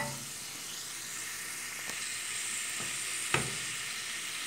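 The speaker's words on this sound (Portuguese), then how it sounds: "nós vamos refogar nosso couve, deixar dar uma fritadinha aqui." Collard greens and onion sautéing in a hot pan, a loud continuous bright sizzle with occasional stirring clicks, close up and without talk.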